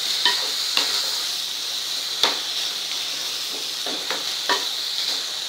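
Bell pepper thecha stirred and fried in a pan over a high gas flame, giving a steady bright sizzle broken by repeated scraping stirs, close and loud with no talking.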